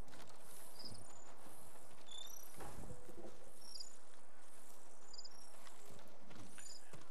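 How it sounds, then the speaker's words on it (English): A cricket chirps in the forest of the game Ghost of Tsushima, giving short high trills that repeat every second or so over a quiet ambient bed, with faint hoof-like thuds and footsteps beneath. "That cricket that you hear in the background, they're collectibles."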